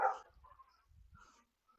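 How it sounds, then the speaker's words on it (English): A dog barking outdoors at the neighbours: one loud, close bark at the start, followed by a few fainter, shorter barks and yips. "I do hear my dog barking outside."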